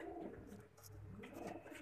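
Pigeons coo close by, soft repeated throaty rolling calls at low volume with no talk.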